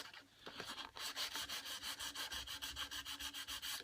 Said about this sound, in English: Rub across the grain a little bit. Number one, it gets the glue off